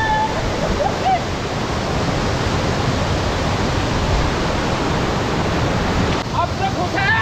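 Ice-cold snowmelt water rushes steadily on the road from Manali toward Tandi, a loud, continuous broadband roar of a nearby stream with no breaks.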